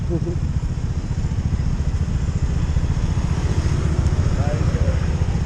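A Honda TMX Supremo motorcycle engine idles nearby with a steady, rapid low thrum, faint voices sounding briefly over it.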